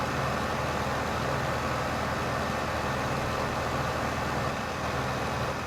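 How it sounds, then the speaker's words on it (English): Tractor in Farming Simulator 2015 running steadily, a dense, constant engine drone that stays loud and unchanging throughout with no voices. "Oh, listen to that tractor."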